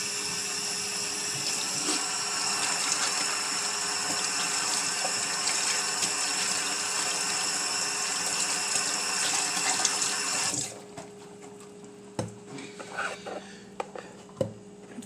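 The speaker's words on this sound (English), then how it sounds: "take that stuff under running water" Tap water runs steadily into a kitchen sink as a pepper is rinsed for homemade recaito, a loud continuous splash lasting about ten seconds before it cuts off, leaving quiet clinks and handling noises.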